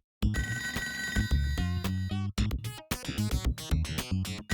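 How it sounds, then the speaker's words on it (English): A telephone rings in a retro video game played on real hardware, loud electronic bell bursts repeating in quick irregular pulses amid game sounds, with no talk. "Someone spawned the phone at some point. I can hear it, but I can't see it."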